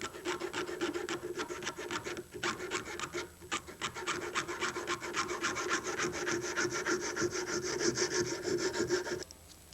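A hand saw cuts through a thin-walled tube in steady, rhythmic rasping strokes, close and continuous for several seconds with only a brief pause, and no voices.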